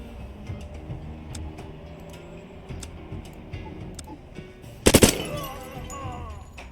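Machine gun fire in a video game: a quick burst of loud cracking shots in the middle, surrounded by scattered sharp ticks and taps over a low background rumble.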